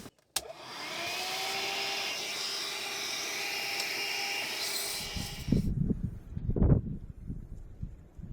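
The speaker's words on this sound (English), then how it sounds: "And vacuum clean the car, because after the stop before in the dune, full of sand." A loud, steady vacuum cleaner whine runs for several seconds while cleaning sand out of a car interior, then cuts off, followed by clunks and rustling of handling nearby.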